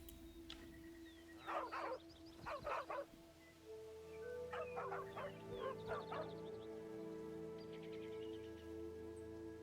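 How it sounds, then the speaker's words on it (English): Stray dogs bark in a video game, with two clusters of sharp, mid-distance barks repeating in quick bursts over a steady ambient hum, and no talking. "It's just stray dogs."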